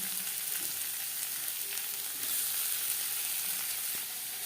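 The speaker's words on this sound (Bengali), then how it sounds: "সবার প্রথমে পেঁয়াজ ভেজে নেব।" Chopped onions frying in refined oil give a dense, steady hiss and crackle, close and even throughout, with a few faint stirring taps and no talk.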